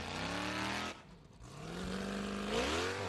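A Formula Off-Road car named Thor with a big, powerful engine revs hard on a hill climb, its loud harmonic roar dipping briefly before rising again in pitch as it climbs.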